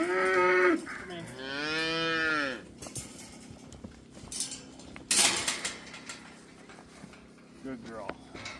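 A cow in a milking barn lets out a long, loud, wavering moo near the start, followed by clanks and a few fainter bellows, with someone talking quietly in between.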